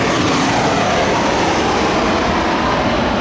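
Steady broadband roar of an airplane passing overhead, loud and continuous throughout, with no talking over it.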